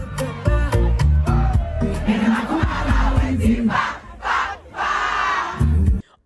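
A charged-up crowd at an Oak Hill Park rally shouts and cheers in loud, rhythmic bursts, with chanting voices rising and falling before cutting off abruptly.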